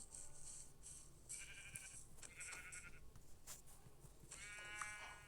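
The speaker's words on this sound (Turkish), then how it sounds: "Koyun koyun koyun koyun koyun koyun." Several sheep bleat one after another at a moderate distance, their wavering cries rising over a quiet, steady background hum.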